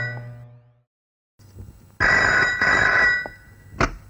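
A telephone rings in a dramatic film scene, a loud electronic ring in two long bursts and then a short third, following a quiet pause.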